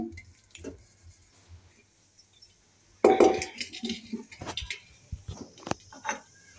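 A clay kadhai cooking pot is set down and handled in a home kitchen. It gives a sudden knock followed by several light clinks and scrapes, fairly close, with no talking.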